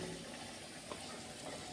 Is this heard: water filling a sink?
yes